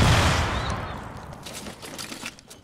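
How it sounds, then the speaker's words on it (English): Grenade explosion and gunfire in a video game, a loud booming blast that decays over a couple of seconds while faint, scattered shots sound behind it, with no talking. "Who's throwing grenades?"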